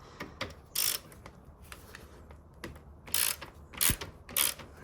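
Ratchet undoing T30 Torx bolts on the front bumper of a 2013 Mini Cooper S R56, several short bursts of close metallic clicking separated by quieter pauses, no talking.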